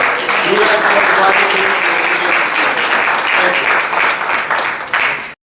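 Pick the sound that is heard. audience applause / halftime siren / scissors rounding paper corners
audience applause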